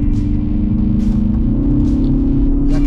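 A 2022 Kia Forte GT hatchback with dual-clutch gearbox pulls hard under acceleration: a loud, steady engine drone rising in pitch close to the microphone, with a few brief higher swishes over the top.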